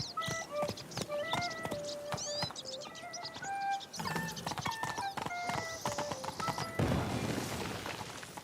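Horse hooves clip-clop at a steady trotting rhythm in The Witcher 3, crisp close hoofbeats with a brief whinny and game ambience rising toward the end.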